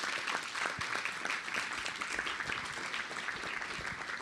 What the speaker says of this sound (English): let's give our finalists another round of applause